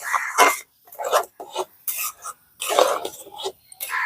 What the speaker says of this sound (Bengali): অনবরত এইভাবে নাড়তে থাকতে হবে